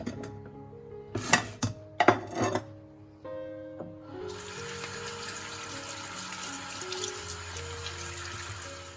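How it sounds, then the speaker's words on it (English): Smashed fresh green olives being handled, with a few rough rubbing scrapes, then running tap water rinsing them in a steady close rush that fills the second half. "Then I will rinse them out."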